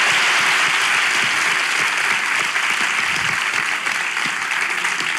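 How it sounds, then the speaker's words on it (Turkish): A studio audience at a Turkish talk show claps loudly and steadily, a thick, unbroken burst of applause lasting around five seconds. "Kocaman alkış hocamıza"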